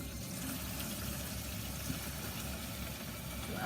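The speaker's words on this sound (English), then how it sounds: "Let's fill that with water." Water runs steadily into a tub, filling it for hand washing a blanket, as a continuous even rush with no one talking.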